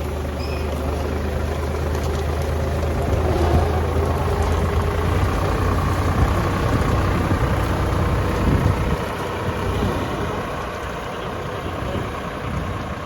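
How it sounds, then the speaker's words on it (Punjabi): A tractor engine pulling a zero-till seed drill sowing sorghum runs steadily with a low droning rumble and mechanical rattle, constant throughout at moderate distance. "ਹਰਪ੍ਰੀਤ ਸਿੰਘ ਹੋਣੀ ਟਰੈਕਟਰ ਨਾਲ ਆਪਣਾ ਜ਼ੀਰੋ ਡਰੇਨ ਨਾਲ ਵੀ ਕੇ ਰਹੇ ਆ"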